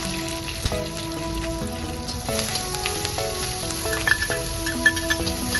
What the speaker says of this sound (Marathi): तेल तापवून त्यामध्ये आपण लसूण, ठेचलेला लसूण, मिरची, कढीपत्ता आणि हिंग टाकून घेऊया